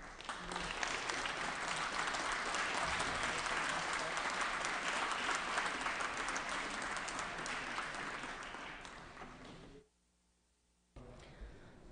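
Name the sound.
applause welcoming Lord Christopher Monckton on the Assembly floor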